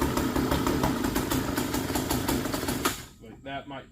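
A small engine runs with its choke on, a loud, dense, steady buzzing that abruptly cuts out near the end. A voice talks in the quiet that follows.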